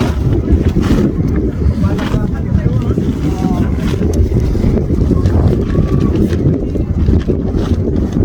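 Strong wind buffets the microphone in a constant loud roar at a campsite in Abu Dhabi, with faint water and boat sounds beneath it.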